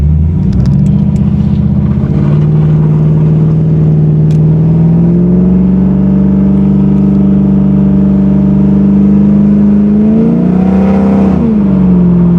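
A 500hp V8 in a 1987 Chevy Monte Carlo SS roars and revs hard without shifting, its pitch climbing, then wavering and surging as the car accelerates and loses traction, close and constant throughout.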